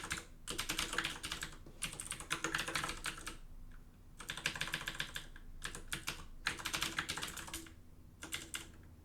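Rapid clicking of a computer keyboard, typed in quick bursts separated by brief pauses, close and fairly quiet with no voices.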